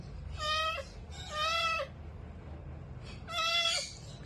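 Three high, thin meows from kittens, spaced about a second apart, fairly close, with quiet background hum between them.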